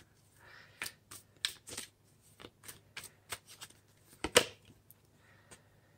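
Tarot cards are shuffled and pulled from the deck, giving a quiet, uneven run of crisp snaps and papery flicks with short pauses between them, close by and without talk.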